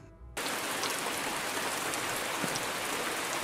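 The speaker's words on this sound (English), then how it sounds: "it's raining." Steady, dense video game rain pours down continuously after a brief quiet start, an even hiss of drops with no talking.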